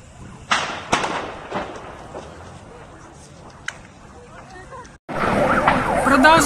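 Emergency vehicles, fire engine and police, arriving at the scene of a Su-34 combat plane crash in Yeysk, Russia; a siren wails loudly near the end amid sharp bangs and crowd noise, with people talking earlier.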